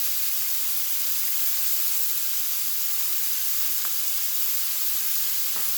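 Food sizzling in a hot pan, a loud, steady hiss of frying that holds evenly throughout with a couple of faint clicks.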